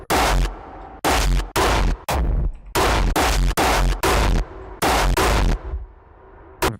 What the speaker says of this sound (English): It's just literally explosion noises.